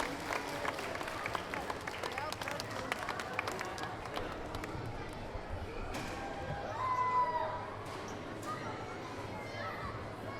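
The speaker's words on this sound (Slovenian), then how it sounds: "Pa en aplavz za punce." Audience clapping for girl hip-hop dancers at a children's bazaar, scattered steady applause with crowd and children's voices around it, swelling slightly toward the end.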